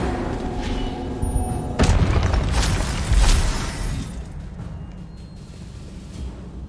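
The Expelliarmus spell goes off in Hogwarts Legacy combat: a dense, noisy blast with a couple of heavy booming impacts that gradually fade into a rumbling tail.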